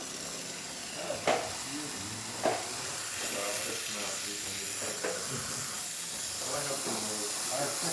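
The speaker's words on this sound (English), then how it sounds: "Let's test the steamer." Jura E8 espresso machine steam wand hissing steadily into milk during a test after a full tune-up. Continuous close broadband hiss runs throughout, with a few short clicks and gurgles, and faint voices sit under it.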